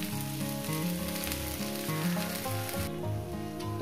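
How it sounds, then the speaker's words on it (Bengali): Food frying in a pan with oil, a loud, steady sizzle that fills the whole stretch without pause. "প্রায় 4 মিনিট আমি ভেজে নেব।"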